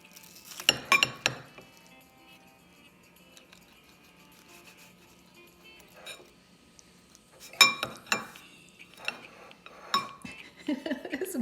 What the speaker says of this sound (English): So I'm going to go ahead and cut into it